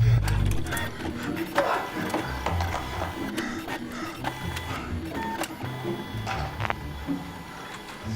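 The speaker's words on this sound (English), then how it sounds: "then we hear an obnoxiously loud printer sound effect" A loud, busy mechanical clatter of a printer running continuously, with sharp clicks and whirring throughout.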